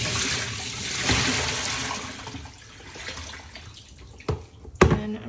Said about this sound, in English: First, I'm going to get rid of this water into my sink.